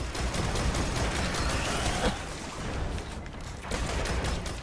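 Continuous dense gunfire in the video game Destiny, a loud unbroken barrage of shots and blasts with a slight dip near the middle before it swells again.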